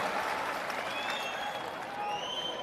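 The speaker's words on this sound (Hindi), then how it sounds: "एक बार जोरदार तालियों के साथ आप सभी" Crowd applause welcoming a speaker at a Jan Suraaj public gathering in Bihar, a brief, fairly faint patter of many hands that holds steady for a couple of seconds.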